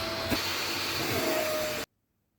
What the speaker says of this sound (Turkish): Güzelce fırça başlığıyla fırçaladım ve güzelce hemen çekiyorum suyunu.